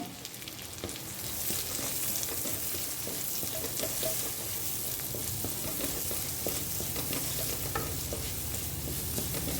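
A medium onion, chopped into small pieces, sautéing in a pan for a paneer chicken rice; a loud continuous close sizzle with busy stirring and scraping throughout, no talk.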